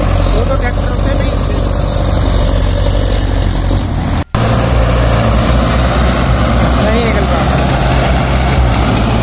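Sonalika 750 DLX tractor stuck in a farm field, its diesel engine laboring with a loud, continuous rumbling drone and a brief dropout midway, recorded close.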